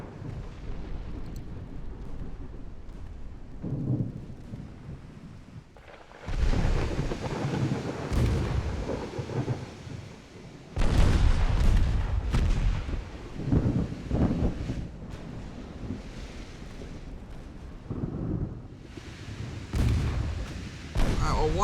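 Naval artillery from battleship guns in the naval warfare game Ultimate Admiral Dreadnoughts, several heavy booming salvos with rumbling tails separated by quieter stretches, with someone talking between the shots.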